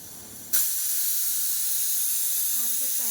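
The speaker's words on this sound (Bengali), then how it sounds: "ভাত কিন্তু প্রায় হয়ে গেছে ভাত ফুটে গেছে এখন ভাত নামাতে হবে" Rice boiling on a stove lets out a sudden loud, close, sustained steam hiss that runs on steadily, with faint clinks near the end.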